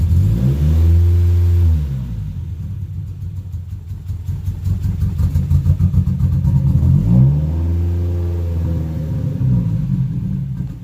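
A 2019 Camaro SS V8 with its secondary catalytic converter deleted, running close by with a deep, loud rumble, rising into two revs separated by a lumpy, uneven idle.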